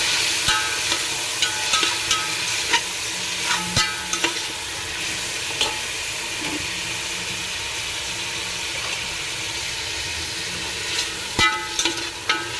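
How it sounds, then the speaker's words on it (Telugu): Sliced onions frying in hot oil for a chicken biryani, a steady loud sizzle throughout with occasional clinks and scrapes of a stirring spoon against the pot. "ఆనియన్ అనేది ఎర్రగా వేగుకోవాలి"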